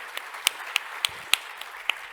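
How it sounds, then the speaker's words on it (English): A small audience gives a quick round of applause, sparse individual claps scattered irregularly over a couple of seconds, fairly close and without voices. "Let's give everyone real quick round of applause"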